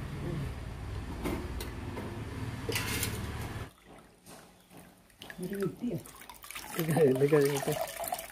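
Arrowroot starch water is poured into a vessel during homemade koova powder making, a close, splashy trickling stream with a voice talking over the later part.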